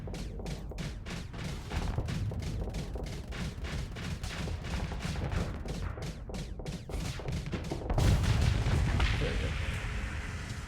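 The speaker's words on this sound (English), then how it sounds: "We wanted it to generate flux using this antimatter blaster and then follow up." Rapid bursts of energy-weapon fire from an antimatter blaster in the space game Long Haul, loud and continuous, with a deeper rumbling blast swelling near the end.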